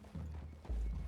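Horse hooves clip-clop in Red Dead Redemption 2, a short run of soft, close low thuds that grows heavier toward the end, with no talking over it.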